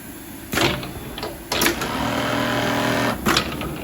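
An industrial Foggiato Strobel KA-ED sewing machine running: a steady mechanical whir with a high whine, broken by three sharp clacks as it starts and stops.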